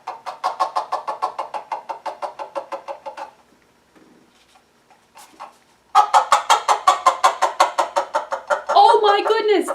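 A handmade noisemaker of a cup and paper towel imitates a chicken with rapid, loud repeated clucking pulses, a pause with faint rustling, then another burst of clucks ending in a harsher squawk.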